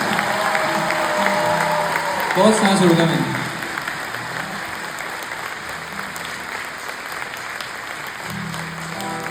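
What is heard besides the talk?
concert audience applause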